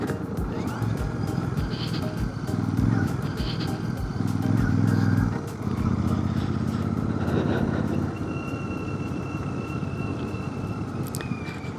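Heavy motorcycle ridden on a mountain road between Bhaderwah and Sarthal in Jammu, its engine droning steadily and close throughout, rising in a louder surge midway, with wind buffeting and occasional clicks.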